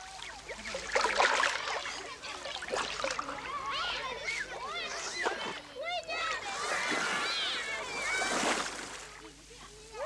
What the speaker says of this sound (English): A few splashes and Jock can never resist a feed.